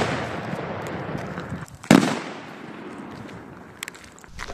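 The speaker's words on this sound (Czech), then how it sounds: "Tohle byl domácí petard" Homemade firecracker goes off in one sharp, loud bang outdoors. A rumble of wind or handling noise comes before it, and a decaying tail follows. A couple of faint pops sound later.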